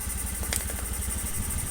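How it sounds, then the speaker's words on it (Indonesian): Honda Beat motorcycle engine, a cold engine that fails to start, runs with a steady low rhythmic chug and faint mechanical clatter, close and continuous with no voices. "bisa didengarkan nanti elektrik starternya ketika mesin menyala"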